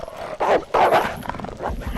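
Dogs bark in Alone in the Dark: The New Nightmare on PS1, two loud, close barking bursts followed by quieter growling and movement.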